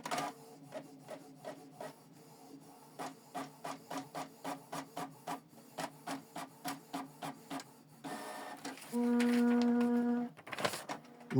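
A Canon TR4755 printer prints a test page: a long run of regular mechanical clatters and rasps, then a steady whirring motor tone and a few final clicks, all close and loud, with no talking.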